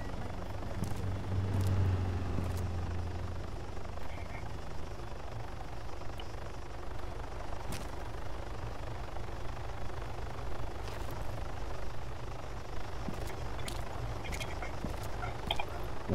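Video game helicopter rotors thrum in a low, steady pulsing drone as it circles over an airport terminal in Arma 3 Altis Life, with faint intermittent clicks over the top.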